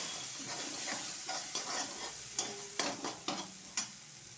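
Tomatoes tipped into a hot pan already seasoned with black pepper and cloves, for a home-style wet cashew curry; a steady sizzle with a few sharp bursts and scraping stirs, close and alone.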